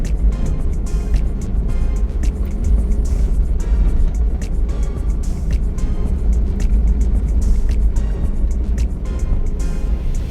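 Motorcycle amid street traffic heard from inside a DR17V 4x2 Tiptronic vehicle, a continuous engine drone and road rumble with scattered clicks and knocks, steady and fairly loud.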